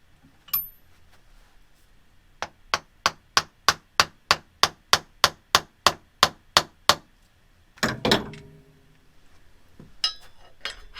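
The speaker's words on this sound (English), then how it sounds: "I take a screwdriver and I'm going to hammer that screwdriver down inside of this stem." A screwdriver is hammered down inside a BMX stem: about eighteen sharp, evenly spaced metallic strikes in a steady rhythm, close and loud, then a few scattered knocks and clatters afterward.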